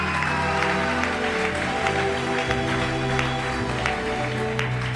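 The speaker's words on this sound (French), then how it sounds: "Est-ce qu'on peut acclamer d'abord le Saint-Esprit?" A congregation applauds in a steady, sustained wash of clapping during a church service, with music tones held beneath it.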